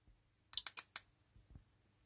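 A moped alarm remote button is double-clicked, producing a crisp cluster of four quick, close electronic beeps or clicks, followed by faint low thumps and then quiet.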